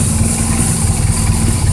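A 2010 BMW R1200GS motorcycle engine idling, a steady loud low rumble with an even pulsing beat, close by, continuous for a couple of seconds with no talking.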